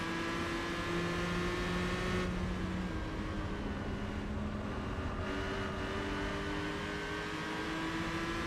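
Racing engines hum steadily in Gran Turismo 4 at Apricot Hill Raceway, a pack of Hondas and Toyotas including a Supra and an MR2, with sustained tonal drones shifting pitch as cars accelerate, continuous and fairly close, no talk over it.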